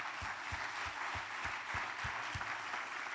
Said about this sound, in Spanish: Denle un aplauso a Dios, por favor